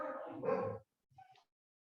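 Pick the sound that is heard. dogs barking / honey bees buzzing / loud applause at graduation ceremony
dogs barking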